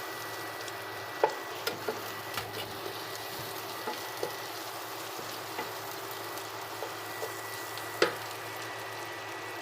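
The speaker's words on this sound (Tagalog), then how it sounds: "Then, pag okay na, sunod natin yung hotdog na" Hotdog pieces frying with garlic in a pan while fried rice is being made, giving a steady soft sizzle with occasional faint clicks and stirs, close by and with no talk.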